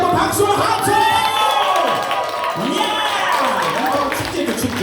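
Applause and cheering from an audience at a Korean talk concert event, a crowd roaring with shouts, whoops and high excited voices over continuous clapping, loud and sustained throughout.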